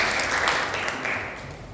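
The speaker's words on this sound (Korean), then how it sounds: "우리 큰 박수로 환영하겠습니다." A church congregation applauds to welcome honeymooning newlyweds during a Sunday worship service, a steady burst of clapping from many hands that fades slightly toward the end.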